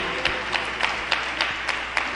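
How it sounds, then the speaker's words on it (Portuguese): Church congregation applauding during a sermon; a dense, steady patter of many hands clapping with faint periodic louder claps, no talking over it. "Agora sim, pode aplaudir para ele."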